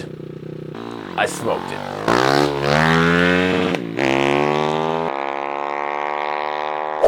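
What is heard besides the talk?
pocket rocket mini motorcycle racing an RC car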